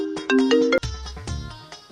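A mobile phone ringtone plays loudly in a rural Telugu village setting, a short melodic run of bright tones that cuts off abruptly, followed by a lower muffled rumble as the call is picked up.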